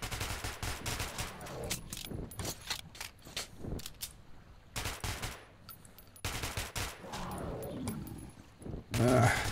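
Gunfire in Metro 2033 Redux aimed at a monster comes in quick irregular bursts of sharp shots, pausing briefly midway, with a growl-like roar near the end and someone speaking German at times.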